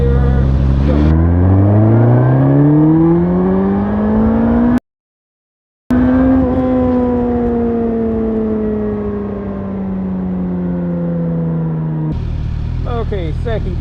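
A Suzuki GSX-S1000GT motorcycle doing a second-gear roll-on, its engine note climbing steadily and loudly in pitch as it accelerates, cut briefly by a dropout, then a long sustained pull that gradually flattens out.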